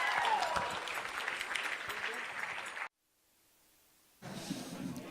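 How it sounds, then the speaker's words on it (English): Wedding reception crowd clapping after a dance, dense applause for about three seconds, then a short silence before clapping resumes; voices mingle with the clapping. "let's have a big round of applause for that lovely dance."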